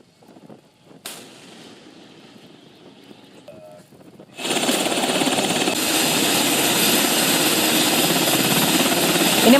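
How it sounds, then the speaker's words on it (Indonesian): Military helicopters from USS Tripoli lift off, faint at first, then a sudden loud, rapid rotor thumping and turbine roar takes over and holds strong, close and continuous. "Sejumlah helikopter dari USS Tripoli terlihat lepas landas saat dikerahkan oleh CENTCOM."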